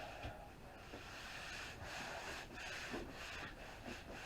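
Hands rubbing and pressing iron-on sheeting skin down onto the structure of an RC airplane, a steady soft rustling and rubbing with faint irregular swishes throughout, close and continuous.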